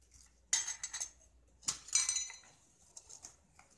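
A spoon scrapes and clinks against a metal pot while mixing milk powder and sugar for basundi, two short clusters of sharp clinks followed by a faint tap, close and quiet with no talking.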